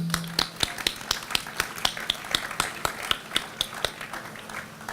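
A few people clap in a sparse, uneven rhythm, sharp individual claps spaced apart rather than a full ovation, fairly close and moderately quiet.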